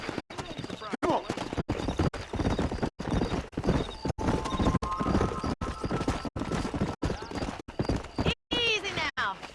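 Horse hooves clip-clop in a steady galloping rhythm while riding in the Red Dead Redemption video game, with whinnies and a voice talking over the hoofbeats throughout.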